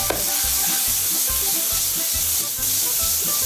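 Sweetcorn and onions frying in a pan, a steady close sizzle with crackling and stirring scrapes, no voices.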